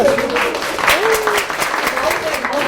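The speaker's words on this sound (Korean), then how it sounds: "동호님 박수 좀 받아야 되는데 나오세요" Audience applause at a Korean talk session, steady clapping held through the clip with voices audible over it.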